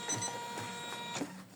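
An embroidery machine stitches a coaster with short, soft, rhythmic mechanical clicks and whirs. The machine is near but quiet, and no one talks.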